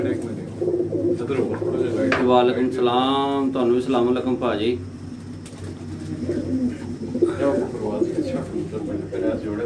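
Migratory pigeons coo on a rooftop in Jalalpur Bhattian, Hafizabad, a soft steady cooing close by under men exchanging greetings.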